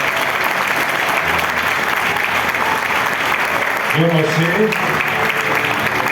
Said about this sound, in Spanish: Si ese aplauso es para Dios, déselo más fuerte